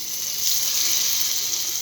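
Slices of bitter gourd sizzle steadily in hot oil over medium heat, a continuous close, bright crackling hiss with no pauses.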